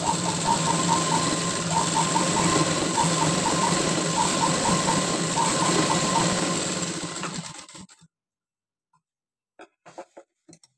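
A sewing machine stitches a girl's fancy blouse in a fast, steady whirring run with a rhythmic tick for about seven seconds, then stops abruptly and leaves near silence with a few faint clicks.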